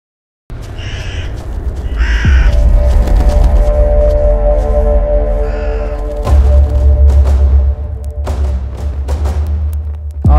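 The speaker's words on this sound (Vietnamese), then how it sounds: "Ví dụ như là tiếng quạ kêu nè, tạo ra thêm những cái âm thanh kinh dị, nó mix chung với tiếng quạ kêu." Several sharp crow caws come in short bursts, added as a sound effect, over a dark, ominous tonal drone with low thuds. The caws are loud and close, with pauses between the bursts.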